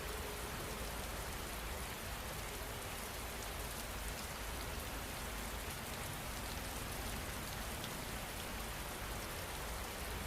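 Steady rain falling and pattering on surfaces, an even, dense hiss of drops at a soft, constant level with no voices or other sounds.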